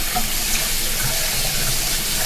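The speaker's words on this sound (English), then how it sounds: "the water in my faucet comes out very hot" Hot water runs steadily from a household faucet into a sink, a continuous close splashing rush with no voices.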